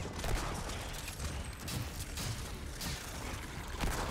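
Gunfire and cannon blasts in the video game Remnant 2 on Nightmare difficulty, a dense, noisy barrage of booming bursts and rumbling impacts throughout, fairly faint and with no talk.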